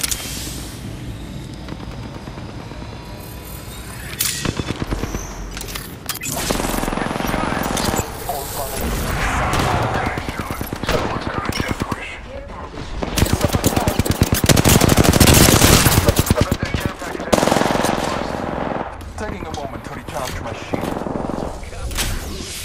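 Video game gunfire in a firefight, with sustained bursts of rapid shots and heavy impacts that swell and fade over about twenty seconds, loud and dense throughout.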